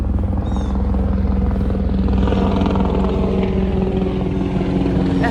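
Helicopter flying overhead, a steady, loud rotor and engine drone that holds for several seconds without a break.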